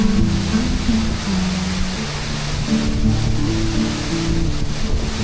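A waterfall in a Ha Giang forest, a steady, dense wash of falling water that roars continuously and fairly loud throughout, with no talking.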